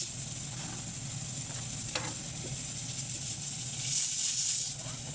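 A steady sizzle of onions and garlic frying in a pan, with a brief clink of a utensil partway through and the hiss briefly swelling near the end.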